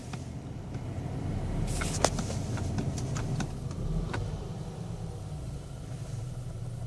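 A 2012 VW Eos engine that had trouble restarting runs steadily at raised RPM, a continuous low rumble close by with a few faint clicks and knocks over it and no voices.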